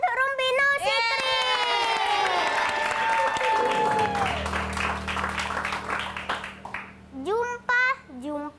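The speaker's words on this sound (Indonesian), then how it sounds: "Tepuk tangan untuk Rumbino Sitri." A studio audience at an Indonesian TV comedy show featuring a child comedian applauds and cheers loudly, with children shouting. A sweeping, falling tone rides over the crowd noise at first, and voices break through near the end.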